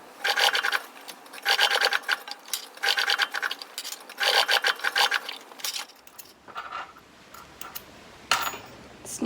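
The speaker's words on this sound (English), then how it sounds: "I'm just going to sew another rectangle in place." A sewing machine stitches a fabric rectangle onto a belt in several loud, close bursts of rapid mechanical whirring, separated by brief pauses, then gives way to softer handling noises.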